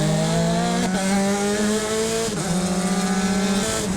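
A Formula Continental race car engine screams past at high revs on an oval track's straight, a loud, continuous, rising-and-falling buzzing whine with a gear change partway through.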